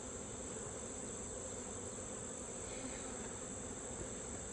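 A soft, unbroken buzz of many honeybees rises from an open hive, a steady low drone with no voices over it.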